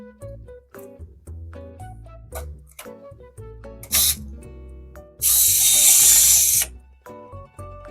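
Ratcheting and mechanical clicks while bolting down a PC CPU water block, a series of short metallic ticks, with a brief loud hiss-like burst partway through, close and fairly loud.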